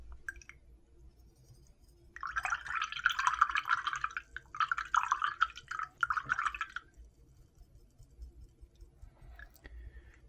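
A face paint brush is swished and rinsed in a cup of water, giving a few seconds of close, wet sloshing and dripping in two or three bursts before fading to quiet.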